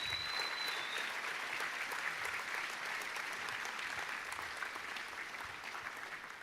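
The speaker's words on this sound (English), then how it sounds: "Let's give them a round of applause." Audience at a commitment ceremony breaks into sustained applause, a dense wash of clapping that holds steady for several seconds and slowly tapers.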